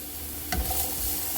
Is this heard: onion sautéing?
yes